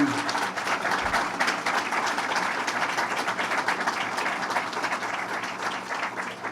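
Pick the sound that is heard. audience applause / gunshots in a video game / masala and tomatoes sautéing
audience applause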